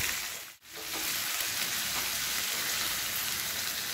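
Ginger, cumin and pepper fry in oil for ven pongal with a dense, steady sizzling hiss, close and even, briefly dipping near the start before resuming unbroken.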